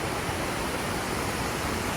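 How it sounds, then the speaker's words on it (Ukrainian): Cascata Avisio, a waterfall in the Dolomites of Italy, pours in a steady, dense roar of rushing water that fills the whole clip without a break. "Перед тим, як їхати додому, ми вирішили приїхати на такий водоспад."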